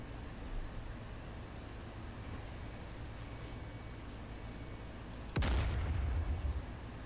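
A single heavy tank cannon blast in the video game DCS Combined Arms booms out around the five-second mark, a deep low rumble trailing off after a steady background hum.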